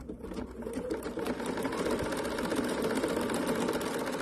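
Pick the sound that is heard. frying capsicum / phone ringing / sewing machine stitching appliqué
sewing machine stitching appliqué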